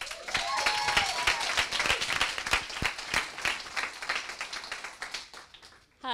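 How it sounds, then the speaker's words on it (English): Audience applause and clapping at a coding bootcamp demo day in London, a dense, sustained burst of many hands filling the room, fading slightly toward the end. "big round of applause for Legit Kitchen."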